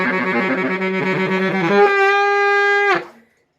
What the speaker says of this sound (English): The next one that I like doing is the G trill, the G chromatic trill.